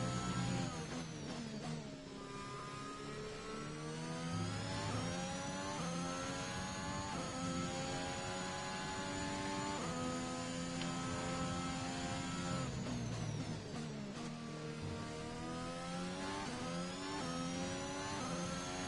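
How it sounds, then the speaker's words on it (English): An Alpine Formula 1 car engine in the game F1 2021 whines and climbs through revs in rising, whirling sweeps, steady and sustained with no talk over it. "The Alpine sounds like a mini little whirlwind when it's starting"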